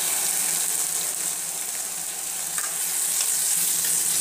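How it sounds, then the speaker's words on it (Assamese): Chopped tomatoes fry in a pan with ginger and garlic for a fish curry, giving a loud, continuous sizzle with faint stirring scrapes throughout and no talking. "বিলাহীখিনি দি যেতিয়ালৈকে বিলাহীখিনি কোমল হৈ নাযায় তেতিয়ালৈকে ভাজি ল'ব লাগিব"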